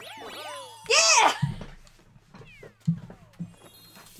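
Cartoonish cat meows from Super Mario 3D World, several bright sliding mews in quick succession, one loud, followed by softer chimes and tinkly game sounds over a low steady hum.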